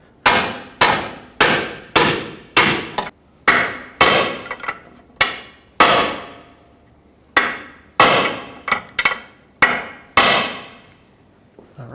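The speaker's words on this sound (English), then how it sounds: "Use a hammer on the back side of the pry bar." A hammer strikes the back of a steel pry bar to pop a CV axle out of a 2003-2008 Toyota Corolla, with about fifteen sharp, ringing metallic blows in uneven bursts, close and loud.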